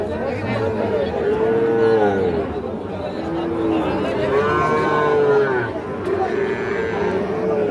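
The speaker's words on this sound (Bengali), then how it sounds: "এই যে দেখছেন শাহিওয়াল ষাঁড় বাচ্চা" A Sahiwal bull calf moos repeatedly at Ambari cattle market, with long drawn-out calls close by over the steady babble of a crowd. People talk throughout.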